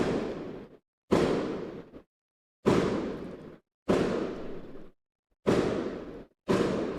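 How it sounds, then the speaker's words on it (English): Fourth of July fireworks burst outside in a regular series of six sharp booms, each fading with a rumbling tail before a brief silence. "Oh no, that's fireworks."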